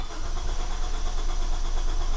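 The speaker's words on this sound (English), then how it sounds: "see what happens when this thing's a crank no start" A Honda CR-V engine cranks steadily without catching, a continuous churning starter drone running throughout with no firing or rev-up, loud and close with no talk.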